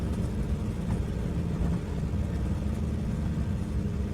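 Steady low propeller-engine drone of a DHC-2 Beaver bush plane in Microsoft Flight Simulator, throttled back to cruise power with the propeller at reduced revs; a continuous, even rumble with no talk over it.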